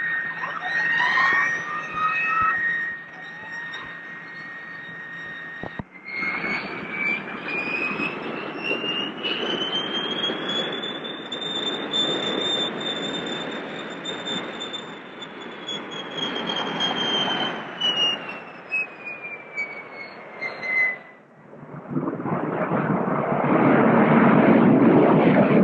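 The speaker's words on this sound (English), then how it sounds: "And then we're going to fly by with the afterburner on." A Lockheed Constellation aircraft makes a loud, sustained fly-by: a broad roar with a steady whine that rises, holds and then falls away before an abrupt cut to heavier roar near the end, with no voices.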